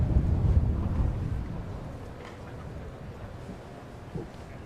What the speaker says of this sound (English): Blustery breeze out there at the moment.